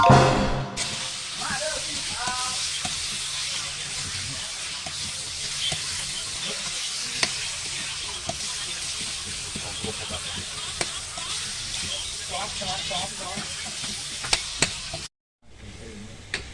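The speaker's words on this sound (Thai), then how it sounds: "เห็ดกำลังจะลงหม้อแล้วนะ ทุกคน" Mushrooms stir-frying in a pot give off a steady, close sizzle and hiss, broken by occasional scrapes and clinks of stirring, before the sound cuts off abruptly near the end.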